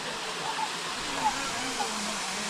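At Masila waterfalls in the Kolli Hills, water pours off a rock face in a continuous broadband rush, close and steady, with faint splashing flickers and no break in the flow.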